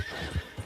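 A horse in Red Dead Redemption 2 gives a brief close neigh with snorting breath, and a few soft hoof thuds sound beneath it.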